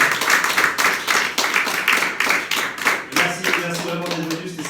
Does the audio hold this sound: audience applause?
yes